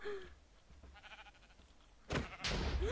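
A sheep bleats briefly near the start, followed by quieter game sounds and a louder burst of noise toward the end.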